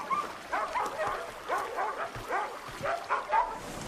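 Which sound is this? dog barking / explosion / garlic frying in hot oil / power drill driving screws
dog barking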